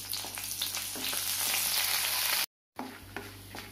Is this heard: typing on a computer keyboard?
no